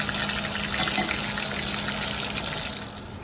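Salted pasta water boiling in a pot on a stovetop, a steady close-up hiss and bubbling rush with no talking.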